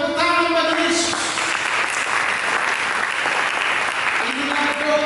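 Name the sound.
congregation applause in church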